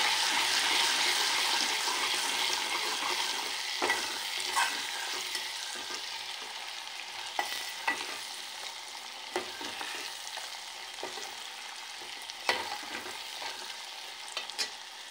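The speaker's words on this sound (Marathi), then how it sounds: "आणि सांबार मसाला 2 चमचे. हे मिक्स करून घेतले." Sambar masala mixture is stirred in a cooking pan over a low, steady sizzle, with repeated clinks and scrapes of a spoon at irregular intervals, close and quiet, with no one speaking.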